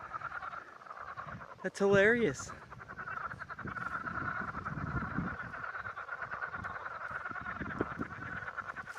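Frogs croak steadily along a lakeside trail, a continuous chorus that carries under a person's speech, with a brief louder burst of voice near the start.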